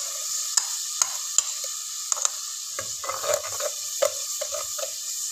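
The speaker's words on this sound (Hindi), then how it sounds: "अब मैं इसके अंदर प्याज का पेस्ट ऐड करूंगी।" Onion paste fries with garlic and ginger in a pan, a steady hiss broken by sharp spatters and stirring scrapes of a spoon against the pan, close and unaccompanied by speech.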